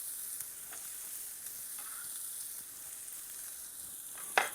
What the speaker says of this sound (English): Just give these just a quick stir.